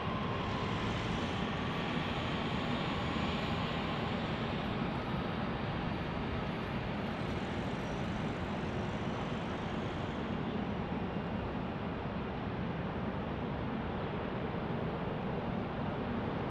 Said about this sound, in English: this Orlando flight lands here on A321neo